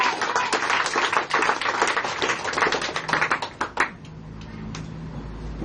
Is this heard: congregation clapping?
yes